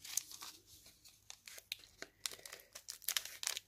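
Crinkly plastic packaging crumpled and rustled by hand while a glitter-covered craft piece decorated with turquoise-green ribbon goes back inside, giving close, uneven bursts of crackling with short pauses.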